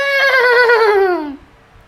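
A person imitates a horse with a single loud, wavering whinny-like vocal cry that slides downward and cuts off after about a second and a half, close to the microphone.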